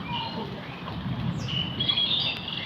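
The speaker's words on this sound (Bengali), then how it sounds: "পাখির ডাক শব্দ শুনেছেন?" Birds squawk and chirp in trees near a mango tree during a midday storm, with light rain falling and thunder in the background; the calls are fairly close against a steady wet hiss.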